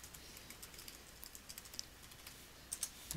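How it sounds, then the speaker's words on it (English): A password is typed on a computer keyboard as a quiet run of light, close key clicks in an irregular rhythm, ending in a few firmer taps. "type in our password."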